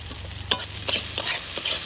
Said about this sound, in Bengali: এবার সব কিছু একটু ভালোভাবে ভেজে নেব পেঁয়াজটা হালকা একটু ভেজে